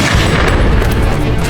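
Gunshots and booming fire form a dense, loud, continuous burst of crackling blasts with no pauses, no voices heard over it.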